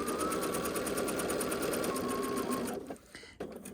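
A sewing machine stitches fabric for a trivet in a fast, even, close mechanical chatter that runs steadily, then stops abruptly near the end, leaving a few faint handling clicks.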